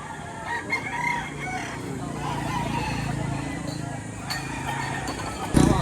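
Roosters crowing amid the bustle of a chicken market in Batangas, several crows rising over crowd noise and nearby talking.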